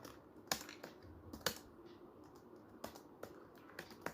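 Typing on a computer keyboard while writing HTML code, with sparse individual key clicks and a few sharper taps at an uneven pace, close and quiet with no one talking.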